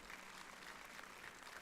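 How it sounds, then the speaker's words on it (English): Conference audience applauding in a large gathering at a medical conference in Nagpur, a steady dense clapping that stays even and fairly loud for the whole stretch without pause. "give a big round of applause for the Madam"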